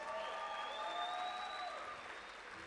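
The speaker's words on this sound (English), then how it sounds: "give them a round of applause" An audience at a motivational speech applauds loudly and continuously, dense clapping filling the room, with cheers rising over it before gradually easing off.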